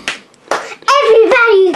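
Several hand claps by a child, each a sharp burst, followed by a voice talking, close and fairly loud.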